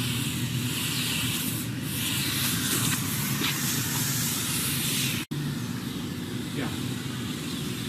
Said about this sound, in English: I can spray that a little bit harder and it dissolves that even more.